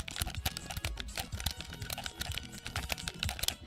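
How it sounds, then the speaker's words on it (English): Rapid, uneven bursts of small plastic clicks from buttons mashed on a clicky game controller, close and fairly quiet, with no talking. "I press all the buttons on my clicky controller"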